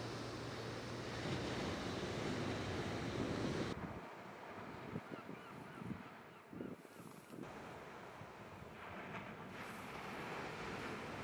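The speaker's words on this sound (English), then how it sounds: "Waves are rolling in, still a little bit of swell as well." Ocean waves roll onto the beach at Barafundle Bay with a steady wash of surf, and a slight swell, heavily buffeted by wind noise on the microphone throughout, with no talking.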